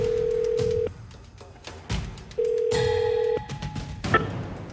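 Ringback tones and a dial tone sound while a phone call connects for a Korean TV talk show's remote interview, with steady beeps and tonal signals in two separate bursts and some brief clicks.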